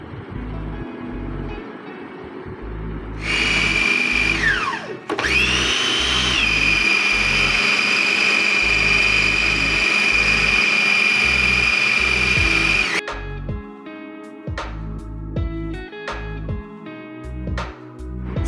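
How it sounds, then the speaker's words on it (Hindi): An electric chopper grinds boiled chicken for shami kabab with a loud, steady motor whine that starts abruptly, dips briefly, then holds at full power for several seconds before cutting off, with softer clatter before and after. "इस आमेज़े को अच्छी तरह से पीस लें चॉपर में।"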